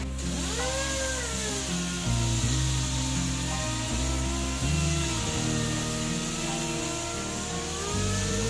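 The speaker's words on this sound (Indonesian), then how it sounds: "Langsung dihaluskan." A power sander grinds against a speedboat hull inside a shipyard, a loud continuous whine with shifting pitch as the tool presses and eases off, running steadily throughout.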